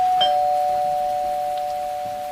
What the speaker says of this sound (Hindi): का डोरबेल बजाया।